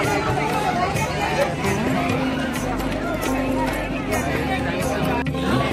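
A crowd of women chatters around a stall at the Mahashivratri temple fair in Vadange, Kolhapur, a dense, steady babble of overlapping voices with nearby movement and a faint engine hum underneath.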